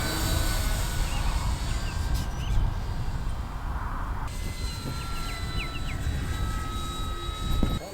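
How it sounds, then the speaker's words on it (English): E-flite Turbo Timber Evolution 1.5m RC float plane in flight, its electric motor a steady loud whine with tonal harmonics, holding close throughout with slight pitch shifts as it banks. "It's my first turn on a new airplane."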